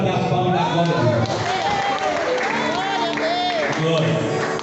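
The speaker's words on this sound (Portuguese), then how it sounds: "Pode bater as palmas da glória a Deus." A church congregation clapping in praise during a sermon, a loud, continuous wash of hands with cheering voices and sung tones rising over it.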